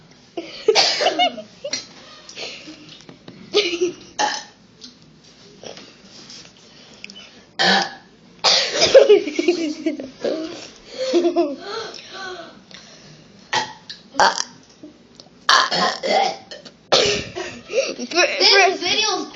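Repeated burps come in short bursts separated by quiet gaps, loud and close, mixed with coughs, throat clearing and laughter, while someone talks between them.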